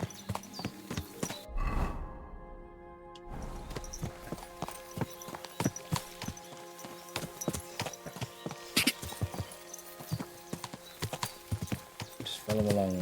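Steady clip-clop of a horse's hooves in a video game, with a brief whinny near the start; the player talks over the hoofbeats throughout.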